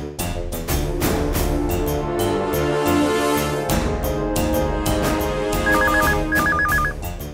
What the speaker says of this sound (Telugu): అమ్మా రేవతి, ఆ ఫోన్ ఎక్కడి నుంచో చూడు.